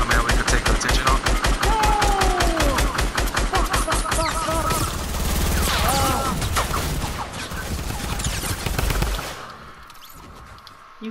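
Rapid, loud automatic gunfire in the game Fortnite, dense bursts of shots packed close together for several seconds before tapering off, with players talking over it.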